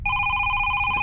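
An electronic telephone rings in the horror video game Is Simon There?, a loud, steady two-tone trill sustained without pause, heard alone over faint background noise.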